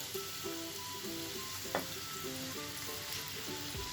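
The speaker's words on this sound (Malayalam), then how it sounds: "ഇനി നമുക്ക് ഈ ചെമ്മീൻ ഇതിലേക്കിട്ട് ഒന്ന് ഫ്രൈ ചെയ്തെടുക്കാം" Prawns frying in hot coconut oil, a steady, fairly quiet sizzle with a brief sharper clink partway through and a faint tonal hum running underneath.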